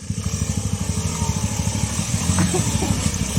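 A Loncin LX300 motorcycle revs hard while stuck in mud, its engine pulsing in a steady, loud throbbing rhythm close by for the whole stretch, with faint voices in the background.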